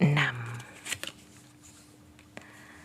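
Tarot cards being shuffled up close at the start, a brief riffle and slide of card stock, followed by a few soft taps and handling sounds as the deck settles.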